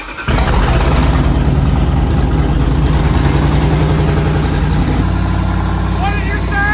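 A Demon-engined Jeep Gladiator on Dana 60/80 axles fires up and settles into a loud, throbbing, close idle that fills the whole stretch with steady rumble and a slight shift in tone near the end.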